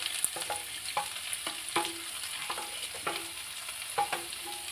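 Coconut pieces, green chili, onion and curry leaves are sautéed in a pan, with a soft steady sizzle broken by repeated scraping stirs at irregular intervals and no talking.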